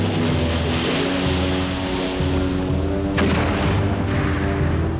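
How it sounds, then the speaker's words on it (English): Cannon fire from warships in a naval battle against the French flagship, a dense rumbling roar with a sharp loud blast partway through, heavy and continuous with no voices. "her cannon belched fire into the French flagship"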